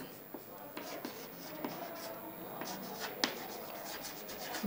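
Chalk or marker writing on a board in an accountancy lesson, with soft scratchy strokes and a few sharp taps spread across the clip, faint against quiet room tone.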